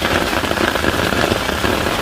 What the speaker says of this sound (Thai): ฝนตกด้วยนะคะ